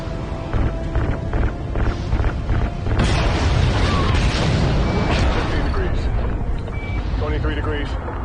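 RCS fuel lines ignite in a Call of Duty game, setting off a loud booming explosion that swells into a sustained rumbling roar over steady background noise, with voices talking throughout.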